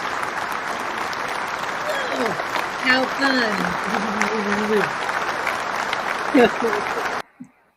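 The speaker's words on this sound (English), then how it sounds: "I want to give a huge round of applause to you guys." Applause from the audience at a community event, a steady wash of clapping lasting most of the moment, with voices talking and exclaiming over it before it cuts off abruptly.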